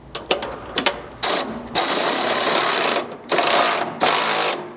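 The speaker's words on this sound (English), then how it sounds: "you can use these to start drawing the slider in tight to the frame with a 3/4 socket and wrench" Ratcheting wrench and 3/4 socket drawing strike slider bolts tight against the frame of a 2nd gen Toyota Sequoia, a few quick clicks followed by longer bursts of rapid ratchet clatter, close and fairly loud.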